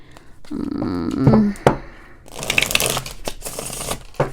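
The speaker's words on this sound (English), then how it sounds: "I don't know why I shuffled more." Tarot cards are shuffled close by in two bursts, a crisp riffling flutter first and then a louder, denser stretch of rapid card flicking, separated by a few sharp taps.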